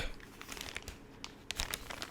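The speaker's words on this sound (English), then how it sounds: "Let me see if I can tear into this without the use of scissors" Plastic packaging on a board game shipment is torn open by hand without scissors, giving a continuous close crinkling and rustling with sharper crackles and rips scattered throughout.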